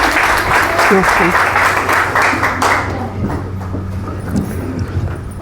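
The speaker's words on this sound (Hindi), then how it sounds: "जोरदार तालियां हो जानी चाहिए।" Loud, dense applause from a large audience at an RCM business seminar fills the first half, then thins to scattered clapping with some voices underneath.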